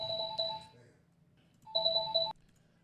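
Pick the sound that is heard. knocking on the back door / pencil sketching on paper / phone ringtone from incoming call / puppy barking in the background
phone ringtone from incoming call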